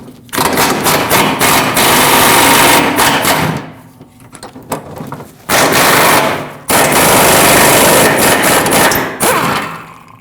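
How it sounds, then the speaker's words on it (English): An impact tool loosens the carrier bearing bracket bolts under a 2009-2015 Honda Pilot with a 14mm socket. It rattles loudly in long rapid bursts, with a quieter gap between runs. "Now use a 14mm socket and remove the carrier bearing bracket bolts."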